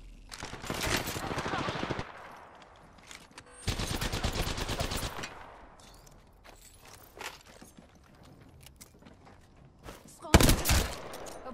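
Apex Legends gunfire arrives in dense rapid bursts, a long automatic volley early on, another a few seconds later, scattered single shots and movement after that, then a loud close burst near the end.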